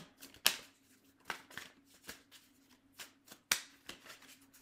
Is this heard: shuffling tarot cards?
yes